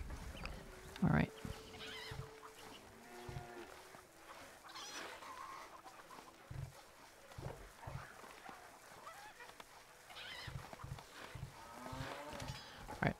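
Cattle moo repeatedly on cow farms in the Stronghold castle-building game, several drawn-out lowing calls spread across the scene amid game ambience, with someone talking intermittently.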